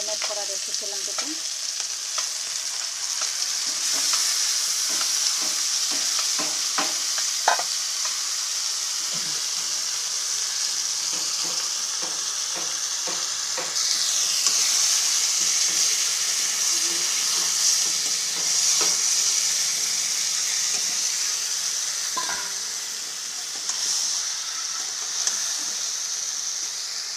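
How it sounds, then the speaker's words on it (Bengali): Marinated chicken fries in a pan for a dish with onion shoots, giving a steady bright hiss and sizzle with repeated stirring scrapes and occasional clicks throughout, no voices. "মাংসটা দিয়ে দিলাম, ম্যারিনেট করা রেখেছিলাম যখন,"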